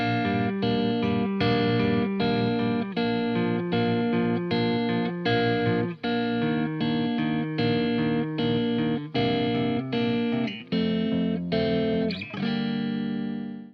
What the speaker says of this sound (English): It sounds like this. I'll play it on guitar.